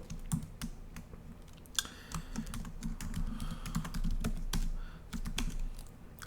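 Fingers type quickly on a computer keyboard while writing Android code, a close, steady patter of key clicks with occasional heavier keystrokes over a faint background hum.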